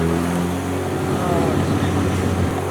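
A car with a K20 engine pulls in second gear at low RPM, a steady droning engine note with audible harmonics running loud and continuous throughout.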